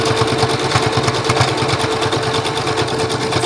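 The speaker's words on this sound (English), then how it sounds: "It's a sewing machine." A sewing machine stitches a Christmas mug rug, a loud, close, steady fast mechanical chatter running continuously without pause.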